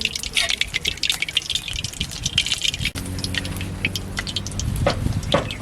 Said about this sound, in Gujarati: તવી ગરમ થઈ ગઈ છે ઘી નાખી દઈ દૂધીનો હલવો બનાવી નાખીએ